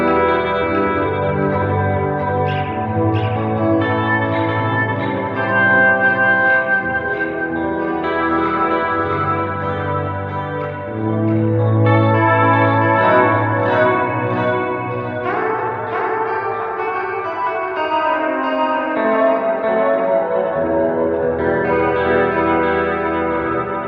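Clean ambient electric guitar through an amp suite, heavily soaked in reverb and delay, with chiming sustained chords and echoing notes swelling and overlapping, steady and instrumental, with no voices.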